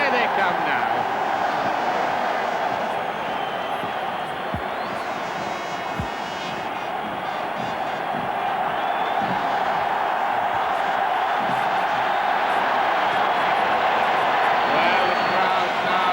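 A large crowd at Wembley roars and rises as the Hull Kingston Rovers and Widnes teams walk out for the Rugby League Challenge Cup final, a steady dense wash of cheering with a commentator talking over it.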